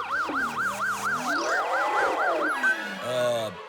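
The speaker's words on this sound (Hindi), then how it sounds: "गुरु, एम्बुलेंस आ रही है" A loud ambulance siren wails in rapid rising and falling cycles nearby, joined by a slower swooping siren tone and passing traffic.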